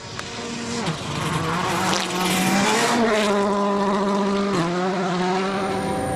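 A rally car on gravel at WRC Poland 2014 revs loudly and continuously, pitch rising and dropping through gear changes, with a rough gravelly rumble and tyre noise underneath.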